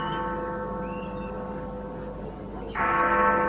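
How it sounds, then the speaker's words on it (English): Big Ben clock bell in London striking, heard from about 1,500 yards away: sustained ringing bell tones with a fresh louder strike near the end layered over the lingering hum. "That last chime came live from Big Ben."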